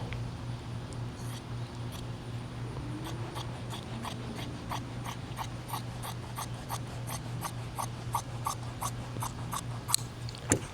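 Scissors snip through vinyl for a car door panel in a quick series of short, crisp cuts, close and faint, with a low steady hum running underneath.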